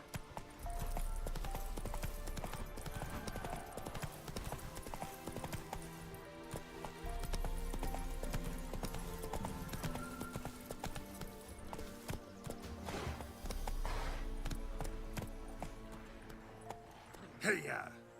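Roach the horse gallops in The Witcher 3, with rhythmic hoofbeats clattering in repeated bursts and an occasional snort or whinny, while someone talks throughout.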